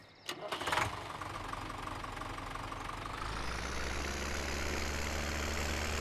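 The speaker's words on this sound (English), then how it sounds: "Okay, we'll get the fertilizer tractor over here." Fertilizer tractor engine in Farming Simulator 17 cranking briefly, then catching and settling into a steady, loud idle that rises slightly and holds to the end.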